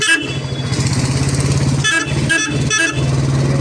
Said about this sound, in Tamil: வளைவு ஹாரன் அடிச்சுக்கோங்க.